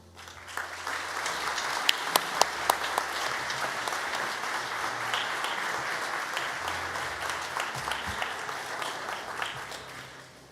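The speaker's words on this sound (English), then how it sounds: "I hope you've still got some reserves of clapping and cheering" Convocation audience at the NSCC Annapolis Valley Campus claps steadily for plumbing graduates, a dense, even wash of applause with a few sharper nearby claps and faint cheers, sustained for about ten seconds.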